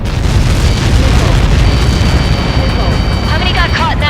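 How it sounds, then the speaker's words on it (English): A massive missile explosion in the combat flight game Ace Combat 7 roars as a loud, sustained boom that fills the whole stretch, with jet engine whine and radio chatter layered over it. "How many got caught in that explosion?"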